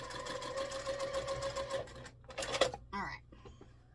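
A sewing machine stitches a quilt block seam in a rapid, continuous mechanical run that stops partway, followed by a few short clicks and brief bursts.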